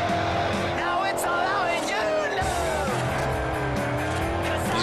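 Mustang engine revving loudly in the racing video game Forza Horizon, a sustained rising and falling drone with brief tire squeal, heard steadily throughout with a voice talking over it.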